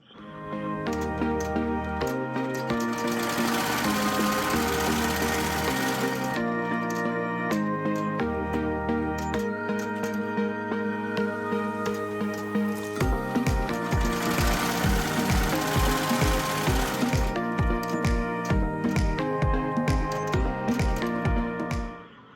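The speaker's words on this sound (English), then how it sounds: "now the machine is going to stitch around each one of these" An embroidery machine runs a tack-down stitch around vinyl placement lines for teacher ID badge cards, a loud steady mechanical chatter of rapid needle strokes that shifts in pitch and rhythm as the stitch path changes, with no talking.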